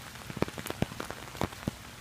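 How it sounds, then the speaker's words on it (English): Rain falls outdoors in California, with scattered close raindrops pattering and ticking irregularly on nearby surfaces over a soft background wash, no talking. "it is raining in California, finally."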